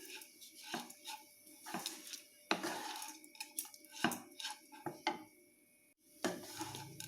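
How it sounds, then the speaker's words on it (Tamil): Utensil scraping and tapping in a pan while salted lemon vermicelli (semiya) is stirred, in irregular close clattering bursts with short pauses and no talking. "உப்பு போட்டு கலந்த அந்த சேமியாவை கலந்துடலாங்க."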